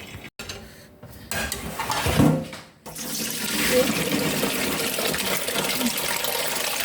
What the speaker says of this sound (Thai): เดี๋ยวคุณยายเอาไปล้างก่อน